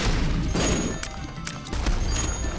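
Explosions in The Binding of Isaac during a Greed Mode fight against Ultra Greed, heard as dense, continuous booming blasts that overlap and fill the whole stretch, staying loud and busy throughout without a clear break.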